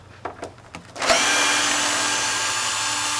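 A power drill unscrews screws from a greenhouse board. A few light taps come first, then the motor whirs up loud and close and runs steadily to the end.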